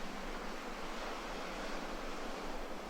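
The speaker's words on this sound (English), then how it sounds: "The ocean gathers you in, and you paddle, feeling the force of the water beneath and behind you." Ocean waves and surf at a Bali beach at dawn: a steady, full wash of breaking water and foam, loud and even throughout with no distinct pauses.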